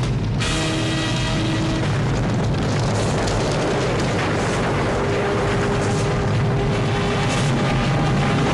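A cartoon volcano erupts in a sustained, loud roaring rumble with crackling bursts and a booming low undertone, dense and continuous without pause.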